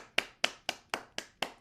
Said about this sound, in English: Okay, they're clapping.